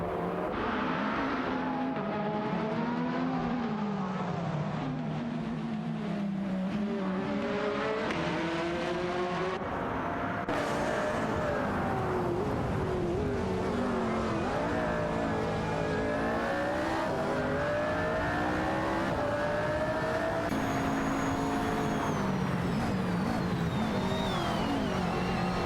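Race cars in an AI racing video game roar continuously, several engines revving and shifting pitch as they jockey for position in the mid-pack, loud and unbroken with occasional tire squeal.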